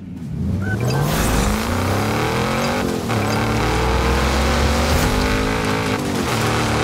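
An engine roars loud and continuous in a Forza Horizon 5 race as a car drives toward the player, steady revving with shifting gear pitches and a brief dip, close and dominant with no voices.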